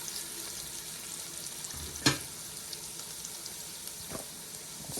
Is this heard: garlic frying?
yes